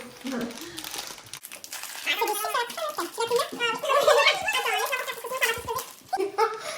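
A crinkly plastic bag of Japanese shrimp chips being opened, with loud, close crumpling and rustling bursts under overlapping talk from adults and a child.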